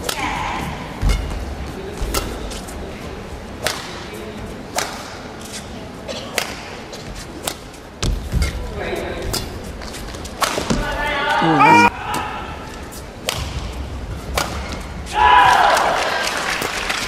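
Shuttlecock hits in a men's singles badminton rally at the 2024 Japan Open, sharp thwacks spaced irregularly through the clip, some loud and close, with a commentator talking and crowd noise swelling near the end.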